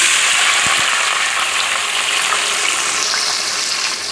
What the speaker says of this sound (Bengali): কড়াইতে তেল দিয়ে দিয়েছি। এবার আমি মুরগিগুলো এখানে দিয়ে দিচ্ছি।